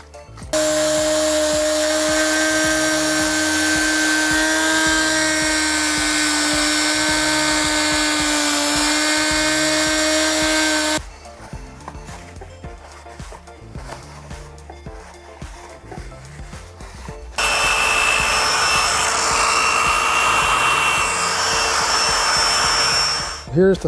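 A rotary tool grinds steadily with a high whine while cleaning up the combustion chamber of a ported, polished LS1/LT1/SBC cylinder head, cutting out briefly to quieter clatter before the loud, close whir resumes.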